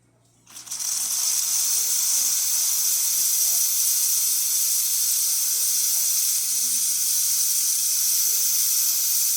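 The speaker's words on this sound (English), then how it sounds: "Okay, that's the steam." Steam wand on a Jura Impressa XS90 coffee machine hisses loudly and steadily, starting abruptly after a brief quiet moment and continuing unbroken to the end with no talking.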